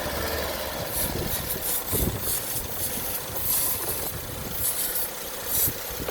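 A misfiring car engine, running without an airbox, idles roughly with an uneven, stumbling rhythm, steady and fairly close, with no talking.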